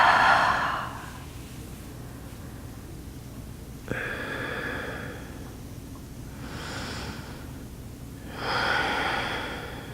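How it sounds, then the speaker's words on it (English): Soft human yawns and breaths during a relaxed yoga session, several airy exhalations spaced apart, close and quiet with no talk. "There's another yawn."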